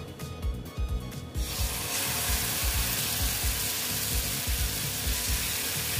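Vegetable paratha batter made with rice flour poured onto a hot pan, bursting into a loud, continuous close sizzle after a second of quieter scraping, with rhythmic spreading scrapes beneath the hiss.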